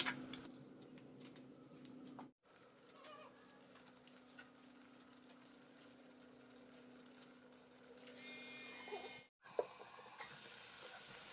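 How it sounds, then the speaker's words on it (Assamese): Mutton and potatoes stir-frying together in a pan, a soft steady sizzle with faint scraping stirs throughout, quiet and close, with two brief cuts in the sound. "মাংসৰ লগত আলুখিনি মিক্স কৰি আকৌ কচুৱাই তম"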